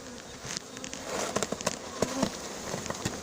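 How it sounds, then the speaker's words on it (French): A honeybee swarm being hived buzzes in a dense, steady drone close by, with individual bees whizzing past the microphone over it, and no talking. "Ouais, ah, c'est un bel essaim."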